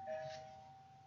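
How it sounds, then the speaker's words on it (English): A home doorbell gives a single soft ding that rings out and fades over about a second, heard faintly indoors. "Doorbell just rang."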